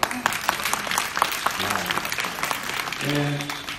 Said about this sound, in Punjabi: ਇੱਕ ਵਾਰੀ ਬੱਚਿਓ ਤੁਸੀਂ ਆਪਣੇ ਆਪ ਦੇ ਨਾਂ ਤੇ ਆਪ ਹੀ ਤਾਲੀ ਮਾਰੋ